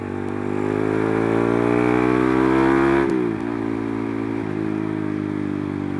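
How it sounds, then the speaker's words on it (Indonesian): A modified 2005 Suzuki Satria FU with a 230cc engine climbs in pitch as the throttle is held open, then the revs drop sharply and the engine settles into a lower steady drone, loud and close. "Ngegas dikit, langsung ngacir speednya."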